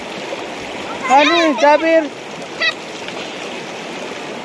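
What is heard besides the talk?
river stream flowing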